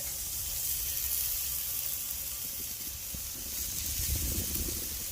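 USDA prime burger patties sizzle on a Monument Grills flat top, a steady bright hiss with a few soft clicks and bumps in the background.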